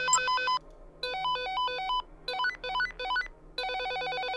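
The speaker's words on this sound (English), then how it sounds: "There's ringtones in this game." Electronic phone ringtone from the video game Dead Rising 2, playing a bright, beeping melodic pattern in several loud bursts separated by short pauses over a low game background hum.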